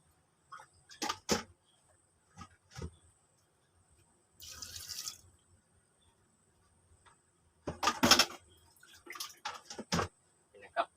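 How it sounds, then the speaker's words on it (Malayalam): About two glasses of water poured into a pot of tapioca, a short splashing burst in the middle between stretches of someone talking, with light clinks and quiet gaps. "അതിലേക്ക് ഞാനൊരു 2 ഗ്ലാസ് വെള്ളം ഒഴിക്കുന്നുണ്ട്."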